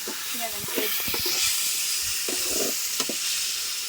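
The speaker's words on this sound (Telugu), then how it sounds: "అవి ఎర్రగా వచ్చేదాకా నూనెలోనే వాడుతుంది" Sliced ivy gourd (dondakaya) fries in hot oil in a village kitchen, a steady soft sizzle and hiss with a few faint stirring clinks and knocks over it.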